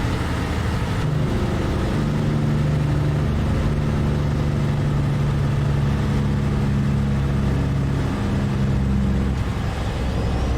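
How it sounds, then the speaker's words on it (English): A truck engine in American Truck Simulator, using the game's default engine sound, drones steadily with a low, even hum that shifts pitch slightly a few times, continuous and fairly close, with no voices. "I want to say this is the default sound for this engine, which isn't that bad."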